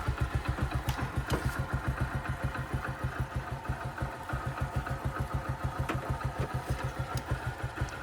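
A car engine, being jump-started from a motorbike battery after battery drain, sputters and then idles with a fast, steady thumping rhythm, close by, with a few faint clanks over it.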